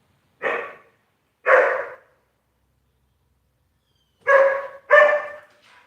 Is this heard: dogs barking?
yes